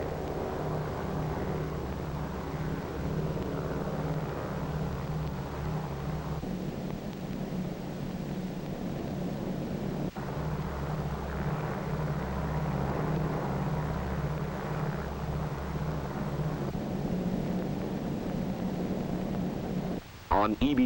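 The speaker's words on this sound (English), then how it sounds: "With her escort of photographic and weather and instrument planes, Dave's Dream proceeds to the Bikini target." World War II era B-29 bomber Dave's Dream droning steadily in flight with escort photographic, weather and instrument planes, a continuous low engine rumble that holds for about twenty seconds with a brief break near the end.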